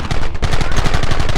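Rapid bursts of gunfire ring out in a Red Dead Redemption battle, a dense, loud volley of repeated shots in quick rhythm, close and continuous throughout.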